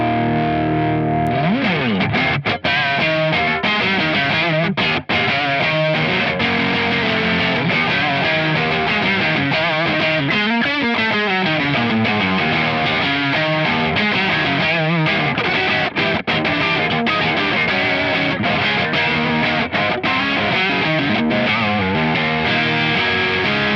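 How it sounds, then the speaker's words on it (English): An electric guitar plays through a VS Audio Royal Flush dual overdrive pedal with its boost engaged, heavily saturated distorted chords and riffs ringing continuously and loud without any talk. "The boost circuit really does push the front end. You get loads more saturation, and it sounds really, really good."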